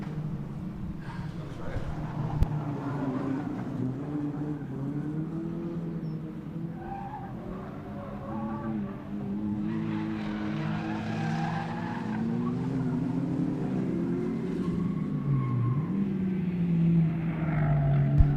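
Rallycross cars on the final lap of a junior small final at Mondello Park, engines droning and revving with tyre noise and a crowd wash, heard under continuous race commentary.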